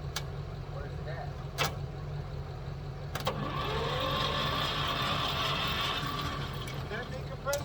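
A 1958 Fordson Major backhoe engine cranks on compression strokes, a rough, rhythmic churning that rises and grows louder midway, punctuated by a few sharp clanks, with people talking nearby.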